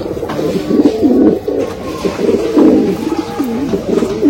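A Gehre Rampuri pigeon nearby gives loud, repeated warbling coos in low rolling waves that overlap with little pause.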